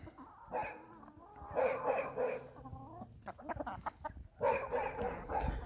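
Geese and ducks in a farmyard flock give repeated honking and quacking calls in bursts, fairly close, with short quiet gaps between outbursts and no talking.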